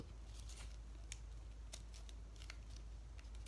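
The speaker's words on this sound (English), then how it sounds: "you're gonna have to cut it in half" Paper being snipped in half with scissors while making a paper lightsaber, heard as a few faint, sparse crisp cuts spread over a quiet steady background hum.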